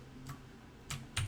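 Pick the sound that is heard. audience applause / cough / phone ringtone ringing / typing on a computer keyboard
typing on a computer keyboard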